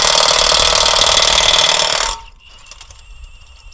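Cordless Milwaukee impact wrench removing car lug nuts, a loud rapid hammering rattle for about two seconds, then it cuts off, leaving faint handling noise.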